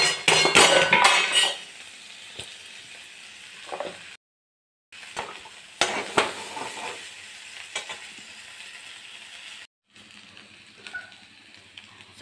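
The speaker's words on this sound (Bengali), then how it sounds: "ভাজা হয়ে গেছে, এবার চাউমিনটা দিয়ে দেবো।" Chowmein noodles and vegetables are stir-fried in a pan, with a loud burst of sizzling and clattering at first, then a quieter steady sizzle punctuated by scraping and clinking of the utensil, and brief silent breaks.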